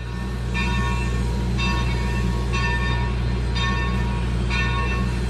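A steam locomotive train moves along the track with a steady low rumble, while a ringing bell-like tone sounds in five regular, evenly spaced strokes, loud and continuous with no talk.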